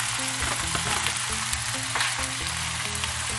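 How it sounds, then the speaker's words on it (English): Carrots and butternut squash hiss and sizzle in a hot pan with steady loud frying, a few faint scrapes of stirring underneath. "Add our carrots and our butternut squash."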